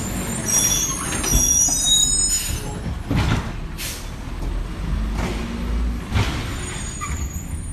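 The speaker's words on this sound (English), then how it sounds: "Garbage truck going by." A garbage truck drives past outdoors, its engine rumbling under sharp air-brake hisses and clanks that come and go over several seconds, fairly close and loud.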